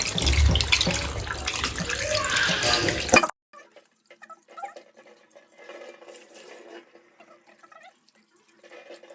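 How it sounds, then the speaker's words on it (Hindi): Raw chicken for a biryani is rinsed under a running tap, a loud close gush of water for about three seconds that cuts off abruptly, leaving faint scattered handling sounds. "अब धुल रहा है हमारा चिकन, इसको हम अच्छे से धोएंगे।"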